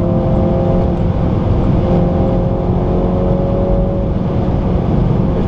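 A MINI Cooper S engine in Sport mode, heard from inside the cabin: a steady, loud, low drone with a constant tone, no talking over it.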